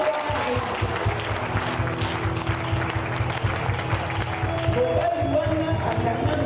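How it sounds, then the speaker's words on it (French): A church congregation at a deliverance service applauds loudly and steadily for the full stretch, a dense wash of clapping and cheering over a rhythmic low backing pulse. "Acclamez très fort"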